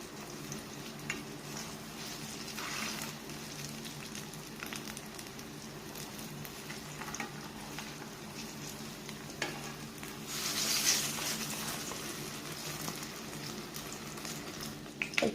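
Ripe varikka jackfruit boli fry in hot oil with a steady, close sizzle and bubbling that continues throughout. Occasional stirring scrapes and a brief louder hiss swell near the end.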